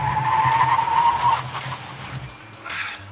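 Tires of a 2017 VW Alltrack squealing under hard braking during a test, a sustained high screech lasting over a second, then fading into road rumble with a brief second squeal near the end.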